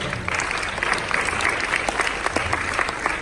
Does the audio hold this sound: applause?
yes